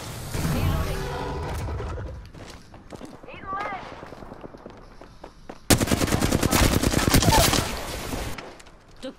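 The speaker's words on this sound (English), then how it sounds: "They're shooting at me." Rapid bursts of automatic gunfire and single shots ring out in a shooting video game, loud and dense in a sustained volley near the end, with someone talking over the earlier stretch.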